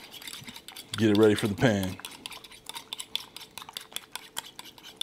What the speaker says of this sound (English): Give it a good stir. Make sure you're hitting that spoon to the bottom of that bowl, really breaking it up, aerating it.